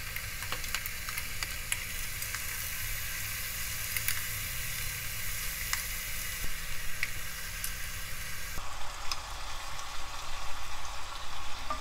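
Whole giant conger eel grilling in a seasoning sauce, a steady close sizzle and crackle that runs on without a break and shifts slightly near the end.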